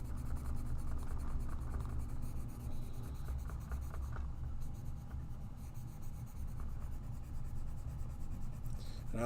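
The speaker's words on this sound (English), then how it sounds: "I like to do kind of a cross-hatch pattern when I'm coloring with colored pencils" Colored pencils scratch across paper in a cross-hatch coloring pattern, making a continuous, close, quiet scratching with rapid back-and-forth strokes that barely pause.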